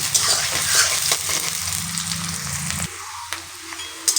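Sliced ridge gourd fries in a pan with a steady, close sizzle and occasional stirring; the sizzle eases and quiets a little near the end, with no talking.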